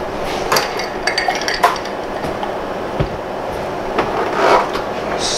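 Negroni made with Tanqueray gin being stirred over ice, giving soft clinks and light rattles of ice against glass and a bar spoon in a slow, irregular rhythm, close and unaccompanied by talk.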